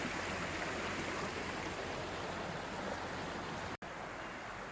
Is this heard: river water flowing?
yes